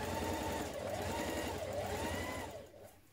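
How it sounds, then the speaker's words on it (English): Sewing machine running a steady line of ease stitching around the top curve of a shirt-dress sleeve, a close, continuous whirring hum that slows and trails off near the end. "we're going to stitch a line of ease stitching around this top curve of our sleeve here"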